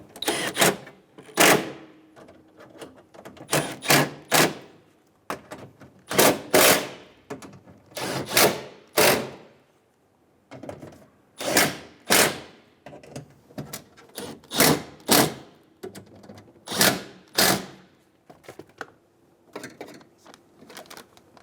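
Bolts snugged down one after another on a 2010-2014 Subaru front power window regulator, a run of loud, close ratcheting and clicking bursts in irregular clusters with short pauses between.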